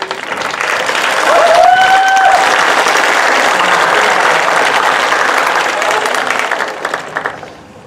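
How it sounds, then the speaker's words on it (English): Large high school commencement crowd gives the graduates a loud, sustained round of applause, with a brief whistle and some cheering rising early before the clapping gradually dies down. "Ladies and gentlemen, another round of applause for these."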